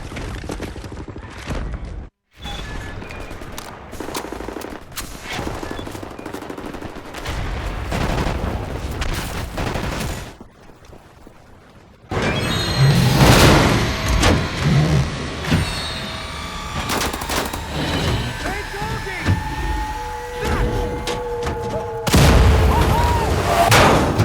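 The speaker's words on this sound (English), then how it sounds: "We'll lay down cover fire from here." Wartime gunfire in a Wolfenstein: The New Order cutscene crackles and booms in bursts, dropping briefly to near silence before a louder, denser barrage resumes with heavy blasts and mechanical noise.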